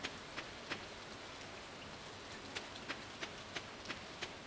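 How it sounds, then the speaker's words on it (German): Soft, steady rain hiss in the video game Stardew Valley on Nintendo Switch, with scattered faint droplet taps, quiet and continuous with no voices. "Oh, es regnet."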